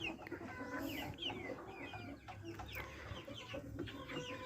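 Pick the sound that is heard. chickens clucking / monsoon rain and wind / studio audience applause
chickens clucking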